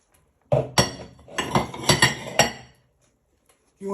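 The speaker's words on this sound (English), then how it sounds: "want to give that a little bit of a stir" A spoon stirs pumpkin soup with basil in a pot, giving a run of close, sharp metallic clinks and scrapes against the pot's side, several strokes in quick succession, then quiet.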